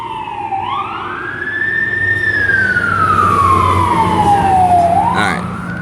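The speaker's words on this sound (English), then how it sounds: "Hold on, let this siren pass." A fire truck siren passes by close and loud, wailing upward, holding, then sliding down before rising again over engine and traffic rumble, with no talking.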